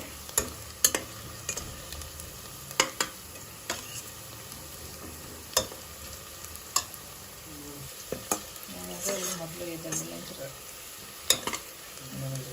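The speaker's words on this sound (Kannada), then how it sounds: "ಫ್ರೈ ಆಗ್ತಾ ಇದೆ. ಒಂಚೂರು ಕೆಂಪಗಾಗಬೇಕು ಈರುಳ್ಳಿ." Onions frying in a pan for Hyderabadi chicken dum biryani hiss softly and steadily, while a utensil clinks against the pan in scattered sharp taps.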